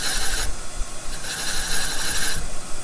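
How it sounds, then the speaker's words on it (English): Valve seat cutter grinding into the seats of rebuilt 1968 Firebird 350 cylinder heads, a raspy metallic scraping in two close bursts with a short pause between, loud and without talk. "here I'm working to get all of the seats cut to the same depth relative to the head gasket surface across both"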